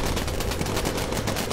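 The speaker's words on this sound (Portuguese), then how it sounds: "Nossa, olha quanto tiro a gente tá levando." Gunfire strikes a bomber in the video game Bomber Crew, a rapid machine-gun clatter of repeated sharp bursts at a fairly even rhythm, loud and without speech.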